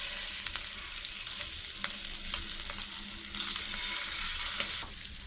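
Prawns fry in hot oil in a pan, giving a continuous, loud, bright sizzle with crackles and small spatters that runs unbroken for several seconds, with no talking.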